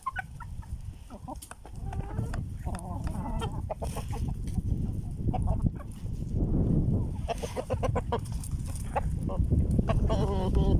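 A flock of chickens, including Indian-breed hens, clucks and squawks continuously at close range over a dense, noisy farmyard background with steady low rumble.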